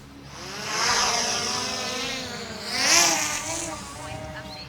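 A DJI Mini 5 Pro drone spins up and takes off, its high whine rising and sliding in pitch as it climbs away, fairly loud and steady with a brief surge near the middle.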